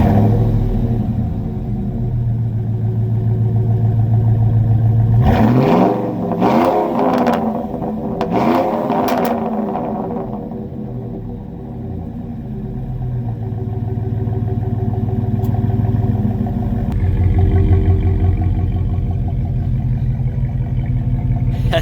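Ford F150 pickup exhaust with single-in, dual-out Flowmaster Super 10 mufflers idling with a deep rumble, then blipped in several quick sharp revs that bark and fall back, settling to a low burble with one more swell near the end.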